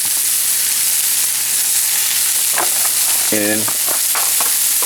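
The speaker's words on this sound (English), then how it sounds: "Now you add the garlic, the rest of the mushrooms, and then the aromatics, rosemary," Garlic, mushrooms and rosemary sizzle in a hot pan as a side for an oven-baked tomahawk steak, a loud, steady close frying hiss with brief stirring sounds and a short spoken word.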